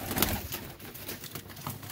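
Pigeons coo softly in a low, throaty murmur, with a brief flutter of wings and general rustling close by.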